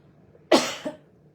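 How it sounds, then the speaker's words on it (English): A single sharp cough rings out close by in a quiet room, followed by a smaller second catch of breath, with no talking around it. "Cough, cough."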